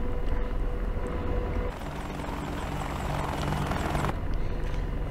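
An AH-64D Apache helicopter in DCS World, its rotor and turbine engine roar loud and continuous as it spools up and accelerates, with the pitch and texture shifting partway through.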